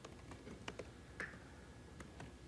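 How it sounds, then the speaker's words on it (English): Typing on a computer keyboard at a tech conference session: a handful of soft, scattered key clicks at an uneven pace, faint against a low background hum. "I have to type it. So let's type it."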